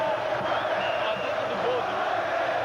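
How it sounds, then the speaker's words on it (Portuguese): A Brazilian stadium crowd at a 2000 Brasileirão league football match sings a chant, a dense, continuous wall of massed voices with a faint melodic line, while a nearby voice talks over it. "a torcida canta o hino de fé"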